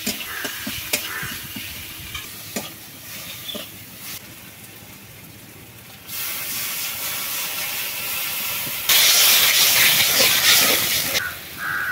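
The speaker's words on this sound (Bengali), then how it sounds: "ঝোল ফুটে গেছে, ভেজে রাখা মাছগুলো দিয়ে দিচ্ছি।" Snakehead fish curry broth boiling hard in a cooking pot: a steady, close bubbling hiss with scattered pops that grows louder and rougher in the last few seconds, with no talking.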